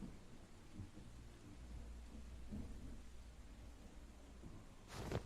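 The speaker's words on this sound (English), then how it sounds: "stormy weather, screams in the night" Thunderstorm in the horror video game Night of Carnage: steady rain with low rolling thunder rumbles throughout, and a sharper, brighter crack near the end.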